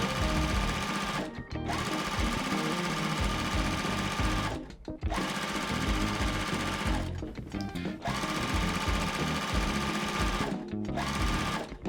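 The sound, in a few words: sewing machine stitching quilt half square triangles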